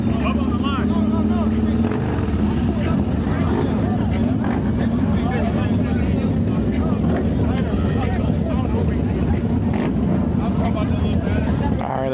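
Loud, steady low engine drone from a 2025 Harley-Davidson CVO ST and a 143 CVO motorcycle idling and revving side by side at a street race start line, continuous throughout with voices talking over it.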